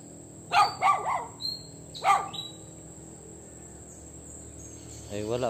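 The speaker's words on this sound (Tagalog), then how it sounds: "mga aso siguro" Dogs bark in the distance, a few separate clusters of sharp barks early on, heard over steady outdoor insect chirping, with brief speech near the end.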